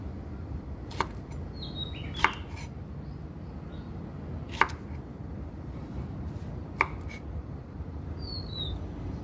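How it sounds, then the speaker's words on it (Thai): A knife cuts okra into pieces, giving four faint, sharp taps spaced a second or two apart over a steady background hiss. "ตัดส่วนของ ปลายกระเจี๊ยบออกนะคะ แล้วก็หั่นเป็นท่อนค่ะ"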